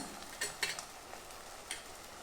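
Crushed garlic frying with mustard and fennel seeds, a faint, even sizzle with a few light spatula taps, no talking.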